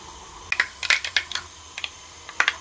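Mustard seeds popping in hot oil for a vazhakudappan (banana flower) thoran, a sparse run of sharp, close clicks and pops scattered irregularly over a quiet background.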